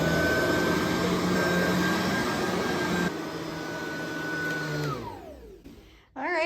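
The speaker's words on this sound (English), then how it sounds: "It's finally time to vacuum and then I'm all done cleaning for today." A household vacuum cleaner runs steadily at home during cleaning, a loud continuous whine and roar heard close and alone, shifting once in pitch, then winding down and cutting off near the end.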